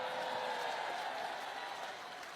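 Audience applause at a speech, a steady dense wash of clapping that holds at an even level throughout, slightly fading toward the end.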